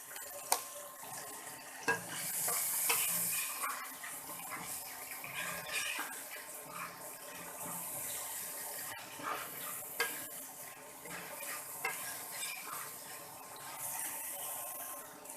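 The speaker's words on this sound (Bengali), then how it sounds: "আমি 5 মিনিটের মতো হলুদ লবণ দিয়ে এই কাঁঠালের বিচিটা ভেজে নিয়েছি।" Jackfruit seeds frying with turmeric and salt in a pan, a quiet sizzle under intermittent metal taps, scrapes and clinks of a utensil stirring.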